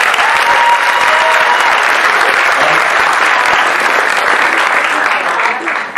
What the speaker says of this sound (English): Please give a huge round of applause for all our participants.